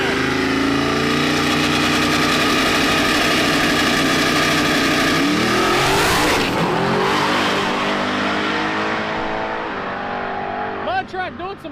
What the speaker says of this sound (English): Watch this truck let down a 5-second pass right now.